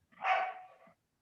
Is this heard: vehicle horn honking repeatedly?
no